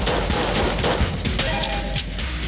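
Rapid gunfire from a 1911 pistol in Enter the Gungeon, a dense run of loud snappy shots with chaotic impact sounds layered over the game's background noise.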